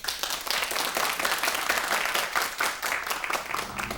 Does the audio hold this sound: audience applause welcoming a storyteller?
yes